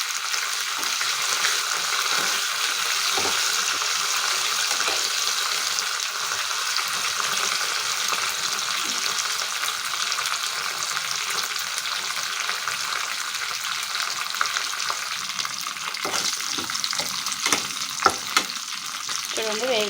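Curry leaves and coriander fry in a pan for village-style pappu charu, giving a steady crackling sizzle with occasional scraping stirs and small pops throughout.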